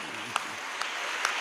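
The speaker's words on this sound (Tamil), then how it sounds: "நீங்கள் உற்சாகமாக கைதட்டுவதை பார்த்தால்" Audience applause at a Tamil pattimandram debate event, a short steady wash of clapping with a few sharper claps standing out, moderately loud throughout.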